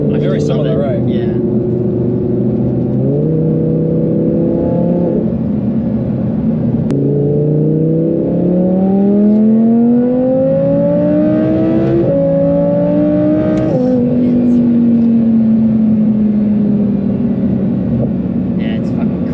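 An Audi R8 V10 Plus with an aftermarket exhaust revs up through rising gear pulls, a deep ten-cylinder roar climbing in pitch and shifting several times, loud and close with voices over it.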